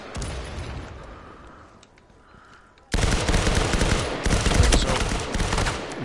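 Gunfire in a multiplayer shooter video game from a weapon blind-fired over a wall, faint at first, then a sudden loud, sustained burst of rapid automatic shots close by.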